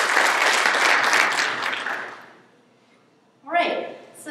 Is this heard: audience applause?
yes